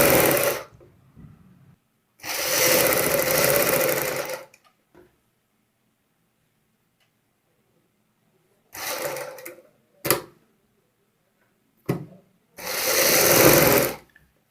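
A sewing machine runs in several loud stitching bursts, long ones at the start and end with short spurts between, while stitching palazzo pant fabric with the upper layer held slightly taut; quiet pauses separate the runs.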